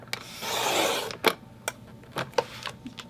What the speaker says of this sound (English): and trim off another inch